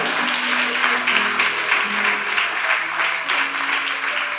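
Worshippers in church clap in a steady rhythmic pulse, loud and continuous, with soft sustained instrumental tones underneath.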